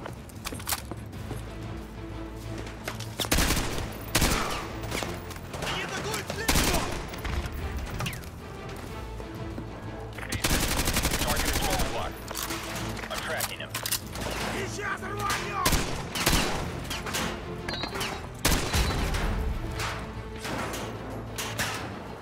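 Heavy gunfire from the Modern Warfare 2 Remastered campaign rattles in dense, loud automatic bursts and explosions, with voices speaking over the battle.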